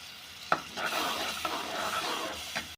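Spice masala stirred and sautéed in a pan on a gas stove, a steady sizzle with a few sharp scrapes and clinks of the spoon against the pan, close and alone.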